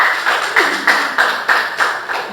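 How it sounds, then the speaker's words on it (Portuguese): A church congregation breaks into applause during a sermon, a short run of distinct, evenly spaced claps, about six or seven sharp hits sounding near and fairly loud with little else around them. "Vamos dar uma salva de palmas para você?"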